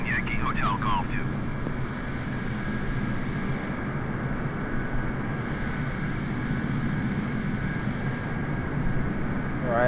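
Simulated Boeing 747-8i jet engines taxiing in Microsoft Flight Simulator, a steady loud broadband rumble with a constant whine running throughout, joined by brief radio-style chirps near the start.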